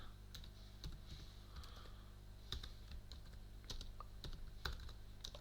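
Quiet typing on a Mac computer keyboard, steady irregular key clicks with occasional louder strikes over a low background hum, no voices.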